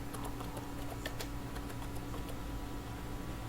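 Fingers type on a laptop computer keyboard in a run of quick, uneven clicks, close and fairly clear, with no talk over them.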